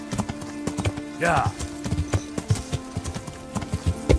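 Horse hooves clop at a steady trot in Kingdom Come: Deliverance, loud and close, with a brief whinny early on; someone speaks briefly over the hoofbeats.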